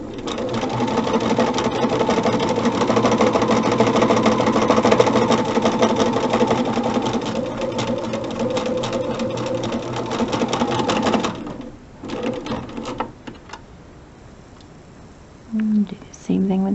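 A sewing machine stitching fabric runs loud and close with a fast, steady whirring hum for about eleven seconds, then stops, leaving quieter handling noises and brief bursts of sound.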